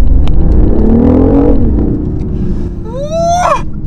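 A hybrid petrol-electric sports car in sport mode roars loud and close with a deep engine drone, then the revs climb in a rising whine near the end.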